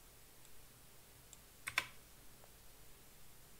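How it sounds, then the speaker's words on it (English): A computer keyboard during a tutorial livestream, with a few faint keystrokes and then a brief cluster of sharper, louder clicks in the middle, in a quiet room. "See how loud that keyboard is?"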